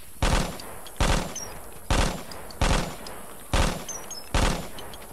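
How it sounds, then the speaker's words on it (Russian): Automatic gunfire in the Vietnam War video game Vietcong, six loud, evenly spaced bursts about every 0.8 seconds, each a sharp crack with a short decaying tail as bullets fly, no talk over it. "А вот пули летают вовсю."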